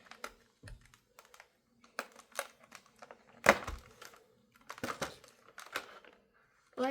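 A Pokemon card EX battle deck package being opened by hand, with crisp plastic crinkles, tearing and tapping clicks in short uneven bursts, close and quiet, with a voice speaking briefly.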